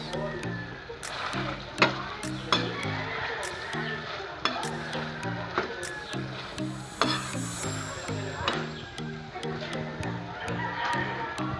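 Green chili is stirred into chicken adobo sizzling in a pan, with sharp utensil scrapes and clicks in an uneven rhythm over a layered, busy background.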